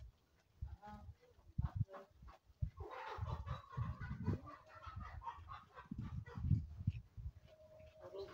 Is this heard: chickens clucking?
yes